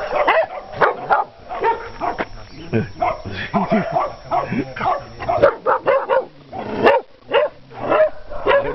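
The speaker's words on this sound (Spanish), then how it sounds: "Ah, los perros grandes." Big dogs barking in short bursts at a dog adoption shelter in La Paz, Baja California, heard under steady close talking from people nearby.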